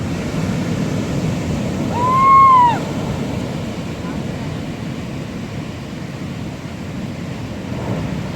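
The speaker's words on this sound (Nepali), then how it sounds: "नडराउनु, केही हुँदैन, तान्दैन हौ त्यो छालले त" Atlantic surf on a Portugal beach rumbles in a constant wash of breaking waves, and a person's voice rises briefly above it early on.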